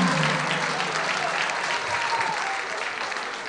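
An audience greets the singer with dense, loud applause, steady clapping filling the space and easing slightly toward the end.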